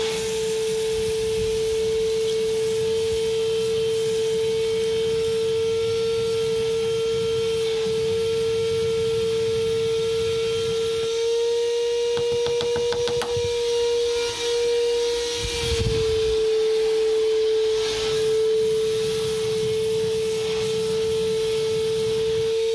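A R11VAC Li Évolution cordless vacuum cleaner runs with a steady, close, high motor whine throughout. A short scraping, rattling stretch in the middle shows the nozzle moving over a surface before the even hum resumes.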